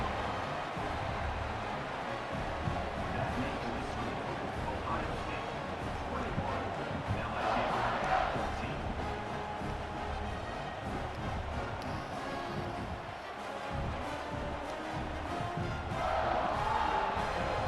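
A stadium crowd in an Ohio State college football video game on PS5 roars as a steady, dense wall of noise, with swells of cheering rising around the middle and near the end.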